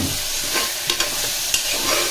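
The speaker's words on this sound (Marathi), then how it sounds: "त्याला चांगलं तेलामध्ये फ्राय करायचं" Pre-boiled soybeans fry in hot oil for a soybean khichdi, with a steady sizzle broken by a few sharp scrapes of stirring, loud and close, no voices.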